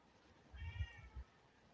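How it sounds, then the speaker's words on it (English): A single cat meows loudly and fairly close, one drawn-out cry against a quiet room with some low thumping underneath. "Man, that's a loud cat, Matt."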